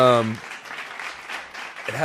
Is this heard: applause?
yes